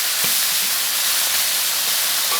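River snails stir-fried with dried chili and bean paste in a hot wok give a loud, constant sizzling hiss with faint knocks, close and uninterrupted, without talk.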